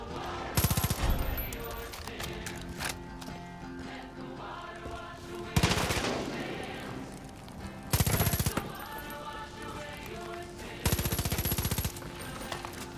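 Bursts of rapid machine gun fire in Far Cry 5, four loud volleys spaced a few seconds apart over a constant background hum.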